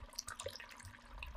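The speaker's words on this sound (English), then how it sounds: "let's continue pouring these bottles in" Liquid is poured from a bottle into an oak barrel outdoors, a steady gurgling trickle with small splashes and glugs, close and moderately loud, with no talk.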